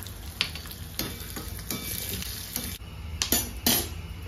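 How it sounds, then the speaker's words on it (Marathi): Steady sizzling of a tempering of mustard seeds, fenugreek, curry leaves, asafoetida and dried red chillies in hot oil, with occasional metallic clinks of a spoon stirring, close and continuous, no voices. "फोडणी टाकतो मी"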